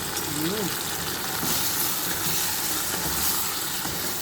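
Chicken sizzles in a hot pan as it is sautéed with oregano for tinola, a steady hiss and crackle of frying under light kitchen noise.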